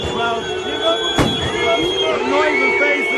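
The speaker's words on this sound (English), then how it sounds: "More firing into the air." A single sharp gunshot fired into the air cracks out over a noisy crowd, with shouting and sirens or whistles wailing around it.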